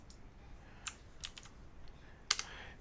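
Light, irregular clicks of keys on a computer keyboard, a handful of quick taps scattered over a few seconds in a quiet room, close and soft.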